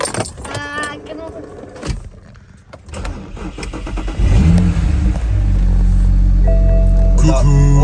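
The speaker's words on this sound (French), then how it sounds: "Seul petit problème, c'est quand on démarre l'auto." BMW 135i engine cranking and catching after keys jangle, then settling into a loud, steady idle close by, with a voice speaking over the start.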